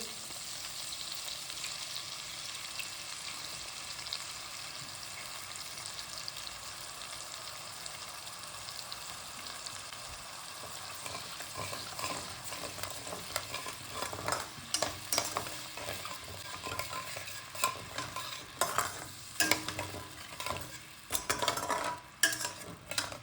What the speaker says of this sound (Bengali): এবার আমরা এটা দেবো 3/4 কাপ দই